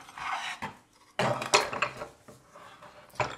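Ceramic bowls of various sizes and their saucers clink and scrape as they are set down and shifted on a surface for a photo shoot, in sharp, irregular knocks with quiet gaps between them.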